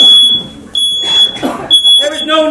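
Theatre fire and safety alarm during a routine test, a loud piercing electronic beep sounding in repeated bursts while people talk over it.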